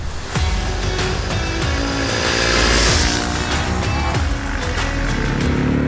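A TVS Ronin motorcycle engine hums steadily and loudly throughout on back roads in Goa, with shifting pitch as it rides along, close and continuous with no talking.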